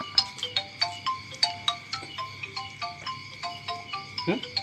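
A mobile phone ringtone plays alone, a bright repeating melody of quick chiming beeps in a steady rhythm, moderately quiet and close.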